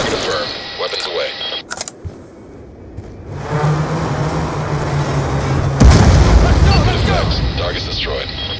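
Airstrike explosions in Call of Duty: Black Ops rumble as heavy booming blasts, a sustained roaring detonation followed by a louder impact burst, with radio chatter voices over the combat.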